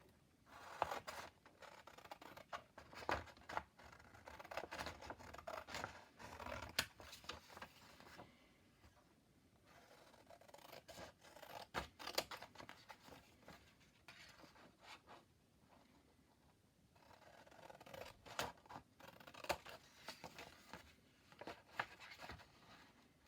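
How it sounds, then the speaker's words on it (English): Scissors cut out a paper rectangle, a very faint, close series of crisp snips and rustles in irregular bursts with short pauses, and no voices. "So let me just cut this out."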